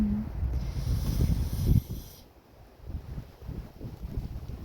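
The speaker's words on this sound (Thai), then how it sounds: "ทั้งลมทั้งหิมะนะ" Cold wind blowing hard across an open outdoor spot during the first snowfall of the season, a steady rushing buffet with mic-rumbling gusts that ease briefly midway before building again.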